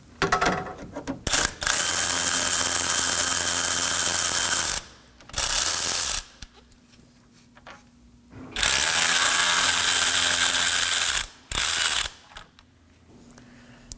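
Ratchet clicking as two 10 mm condenser mounting bolts come off a 2013-2019 Nissan Sentra, loud close bursts of rapid pawl clicks in three or four separate runs with short pauses between.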